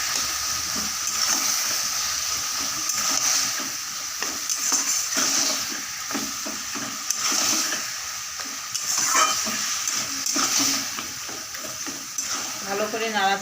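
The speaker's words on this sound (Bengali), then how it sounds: "আর দিয়ে দিচ্ছি সামান্য একটু হলুদ গুঁড়ো, দিয়ে ভালো করে মিশিয়ে নিব" Shrimp and taro stems are stirred with turmeric powder in a sizzling pan, with a steady frying hiss, repeated scraping strokes and occasional utensil clinks, while someone talks over it.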